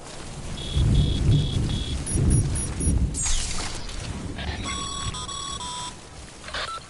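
Timefall rain pours steadily in the Death Stranding video game, with low rumbling thunder rolling through the first half and bright electronic beeping tones layered over the downpour; no voices.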